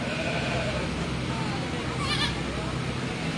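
Newborn twin goats and their mother in a fair barn give bleats against a steady hum of background noise, with a brief high call standing out near the end.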